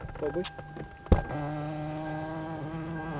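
A sharp click, then a small electric motor whirs with a steady, smooth hum as the memory seat of a Lexus LS 430 slides back into position.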